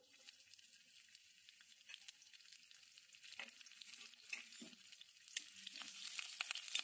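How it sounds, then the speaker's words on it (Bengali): Steady sizzling of chopped garlic and whole cumin frying in hot oil, crackling gently and growing a little louder, with a few light stirring scrapes. "রসুনটাকে একটু ভেজে নিচ্ছি"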